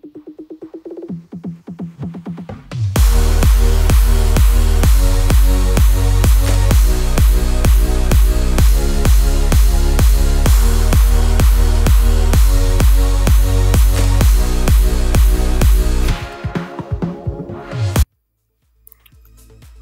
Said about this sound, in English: I have this progressive house mix there, which is basically the drop without the lead.